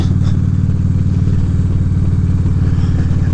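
Motor scooter under way, a loud, steady engine drone with rhythmic mid-range pulsing and constant wind rush, no talk.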